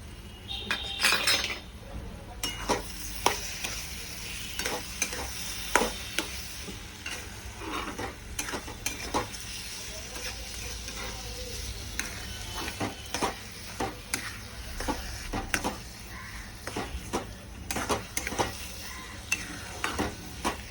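Mango sheera being stirred in a pan after sugar is added, with a utensil scraping and clinking against the metal in an irregular rhythm over a soft, steady sizzle.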